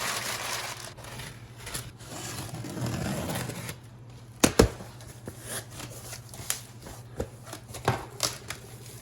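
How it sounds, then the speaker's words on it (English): Papers and a small card deck rummaged through inside a board game box, with steady close rustling and shuffling under a low hum, then sharper scattered knocks and flicks. "I'm literally going through these papers because it could actually fit in these papers"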